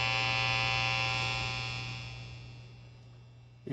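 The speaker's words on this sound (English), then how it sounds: "You can hear the static coming through the speakers." Steady buzzing static hum from a guitar fuzz pedal running on a dead battery, heard through an amplifier's speakers; a constant dense drone with a strong low hum that slowly fades slightly over a few seconds, then a brief bump at the end.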